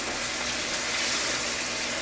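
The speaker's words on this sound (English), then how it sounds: "We're going to also add a half a cup of red wine" Red wine poured into a simmering cottage pie filling of beef and broth, a steady close splashing gush over a faint sizzle, even and unbroken throughout.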